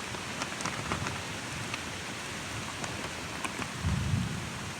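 Steady rain pours down in a woodland, with a low rumble of thunder swelling near the end; no voices.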